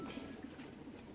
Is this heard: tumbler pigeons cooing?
yes